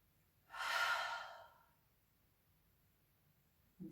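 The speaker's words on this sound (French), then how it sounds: "Puis, vous pouvez prendre une profonde respiration." A single deep breath taken during a guided sophrology relaxation exercise, one long, close, soft airy inhale-exhale lasting about a second, then quiet.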